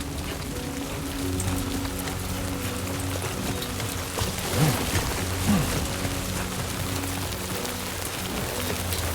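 Heavy rain in the video game Death Stranding 2 pours down as a dense, steady hiss of drops hitting the ground, with a low hum underneath and no talk.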